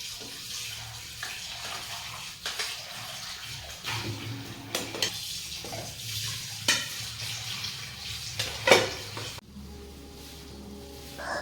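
Dusty household items are washed under running water, a continuous splashing tap flow with clattering handling of the pieces and a steadier stream toward the end, no voices.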